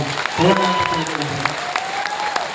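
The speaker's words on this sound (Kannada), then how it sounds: "ಅವರಿಗೆ ಒಂದ್ಸಲ ಜೋರಾದ ಚಪ್ಪಾಳೆಯನ್ನು ನಾವು" Applause from a crowd at a program in Karnataka, a steady patter of many clapping hands with a voice speaking over it.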